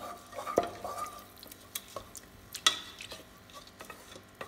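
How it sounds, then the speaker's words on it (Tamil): A spoon stirs rice and water in a pressure cooker for white brinji rice, making intermittent scraping and clinking strokes against the metal pot. The strokes are close, moderately quiet and uneven, with no talking. "நல்லா கலந்து விடுங்க."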